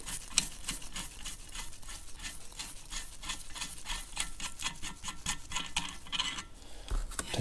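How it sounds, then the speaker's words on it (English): A nut on the injection pump of a Caterpillar D2 diesel engine is worked loose with a wrench, giving rapid, close ratcheting rasps in a steady rhythm that carry on for several seconds. "We'll carefully crack that gem nut loose."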